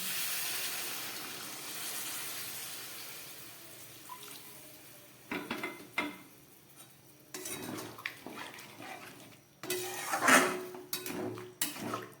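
Warm water poured into a pan of potato and pointed gourd curry, bursts of splashing and sizzling hiss in the second half after a quieter stretch, with a few clanks of the pan.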